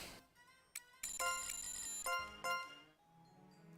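The Witch's Bell item in the game Labyrinth of Refrain rings out as a bright, sustained chime of bell tones, sounding in a few separate strikes that ring on and fade, clear and alone.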